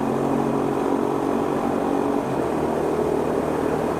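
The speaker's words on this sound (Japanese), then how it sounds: "4速に入れればこの歯切れのいい排気音とともに120キロ巡行楽にできる" A Honda GB350S motorcycle cruises in fourth gear at about 120 km/h on an expressway, its exhaust a steady, continuous drone that holds evenly throughout, with no talking.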